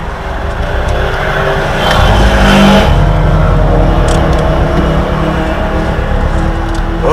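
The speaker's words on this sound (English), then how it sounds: "As you can probably hear, the cars." Race cars, including a 2015 Subaru WRX STI, roar on the Sandown racetrack, engines loud and continuous with a surge in revving midway, close to the microphone.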